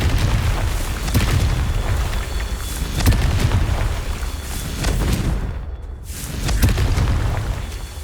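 A Confringo spell detonates in the video game Hogwarts Legacy with a loud, sustained booming blast and rumbling debris. The roar swells, dips briefly, then surges again, with no speech over it.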